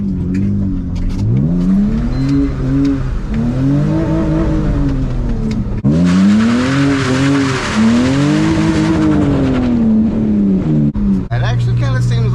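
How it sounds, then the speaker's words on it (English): BMW E46 engine on a wet road revs in repeated rising and falling sweeps, loud and close, with tyre-slide hiss in the middle, before power abruptly cuts and the engine drops to a low idle. "The car's cutting power right now."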